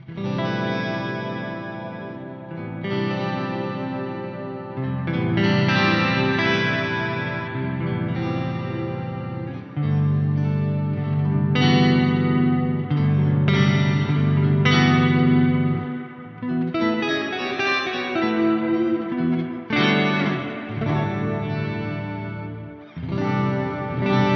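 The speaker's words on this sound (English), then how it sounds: "We've got the shimmer, which is the first sound, and that is going into a spring" Guitar notes ring out through a shimmer reverb feeding a spring reverb on a Strymon BigSky MX, lush and shimmering with a springy, washy tail, sustained chords blooming and overlapping, played alone without voices.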